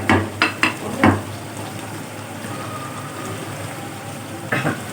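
Butter sizzles in a chicken karahi already tossed with coriander, curry leaves and green chillies, giving a steady close frying hiss broken by a few sharp clanks of a utensil against the pan at the start and end.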